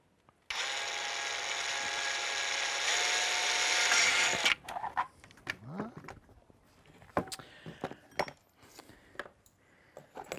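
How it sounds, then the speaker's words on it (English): A power drill bores a hole for a thermometer, a steady high whine running for about four seconds and then cutting off, followed by scattered clicks, knocks and handling noises. "maybe I drill a hole for the thermometer to go through."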